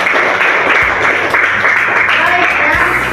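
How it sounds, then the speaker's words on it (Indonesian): A classroom group claps together in a dense, continuous burst of applause for a student group, close and loud, with a few voices mixed in. "Tepuk tangan buat kelompok 3"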